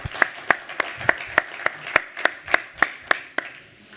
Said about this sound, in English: Please give a big applause to our panelists.